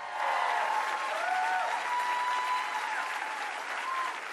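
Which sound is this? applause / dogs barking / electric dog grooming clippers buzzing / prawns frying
applause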